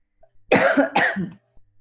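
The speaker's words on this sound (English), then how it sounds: "Excuse my cough." Two quick, close coughs from a person on a family group call, each a short throaty burst in a quiet room, with no talk around them.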